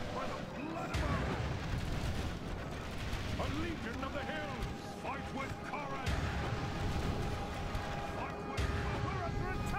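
Ranged troops fire volleys in a Third Age: Total War battle, with dense booming and crackling gunfire-like reports over a continuous roar of combat, loud and sustained throughout, with a voice talking over it.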